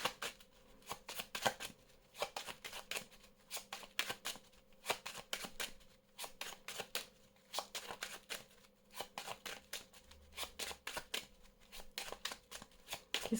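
Belline oracle cards shuffled by hand in a steady run of quick riffling, papery bursts, close and fairly quiet, continuing without pause and with no talk.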